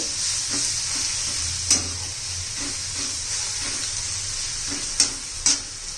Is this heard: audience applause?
no